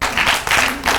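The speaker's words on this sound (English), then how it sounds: "Give me a hand clap." Audience at a political talk claps in three short bursts of applause, close and loud, lasting about a second.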